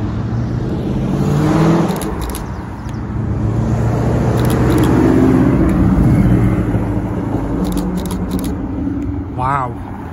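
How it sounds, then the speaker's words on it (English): A Ford GT supercar driving past on a street in Alderley Edge, its engine swelling from a distant rumble to a loud close pass and fading away, with people talking over it. "Z8, and now Ford GT"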